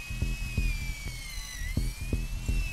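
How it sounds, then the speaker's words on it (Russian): A drill mounted on a bank vault door in the Arma 3 video game whirs with a steady high whine, punctuated by regular heavy rhythmic thumps, loud and continuous with no talking. "Установка дрели."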